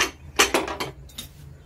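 Kitchen pressure cooker being opened after cooking tomatoes, a burst of clanking metal lid and pot knocks in quick succession, close and fairly loud, with no talking.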